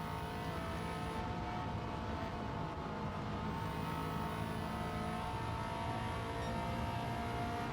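A Subaru Impreza WRX STI engine in Gran Turismo 7 drones steadily at high revs on the Tokyo Expressway, a dense, constant roar with no break or talking.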